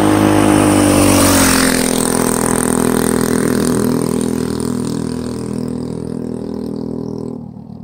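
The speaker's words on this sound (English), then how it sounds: "I'm letting him ride my mini bike so you could all see just how fast he goes." A Predator 212 stage 3 engine on a mini bike runs loud and close, a steady rough roar that holds high before easing slightly and cutting off near the end, with no talking.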